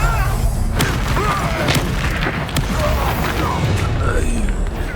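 Spell-blast explosions and impacts from combat in the video game Hogwarts Legacy boom one after another in a loud, dense and continuous barrage that never drops to quiet.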